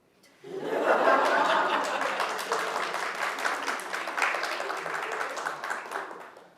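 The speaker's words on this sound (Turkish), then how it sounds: "Alkışı topladım" An audience at a Turkish comedy talk show breaks into steady, dense applause that starts abruptly and carries on throughout, with chuckles and laughter mixed in.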